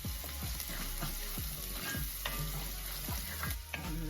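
Chopped garlic and onions sizzling steadily in a pan while making bacon jam, a dense, even frying hiss with soft scraping stir clicks at regular intervals, close and fairly quiet.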